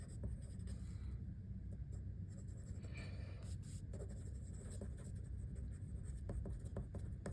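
Handwriting on a surface during a chemistry lesson, faint scratchy strokes over a low steady background hum with short pauses between marks, no talking.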